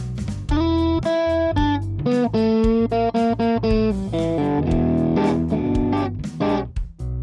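An electric guitar runs through a clipper plugin set for DS-1 style pedal distortion, playing a busy sequence of sharply attacked, buzzy chords and single notes that sound loud, saturated and up close.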